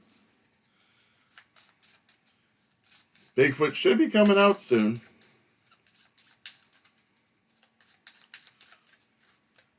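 Playing cards shuffled during a tabletop session of the board game Keystone: North America, heard as faint, scattered soft riffling clicks around a brief spoken comment.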